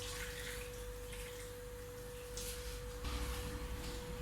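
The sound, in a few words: warm water poured into peanut butter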